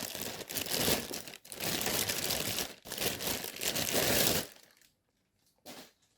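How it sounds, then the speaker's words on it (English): Crinkling plastic bag as a Namnu Studio Shadow Monarch V-Rex figure is pulled out, dense rustling for about four seconds, then quiet with a short final crinkle. "So let's take it out of the plastic bag."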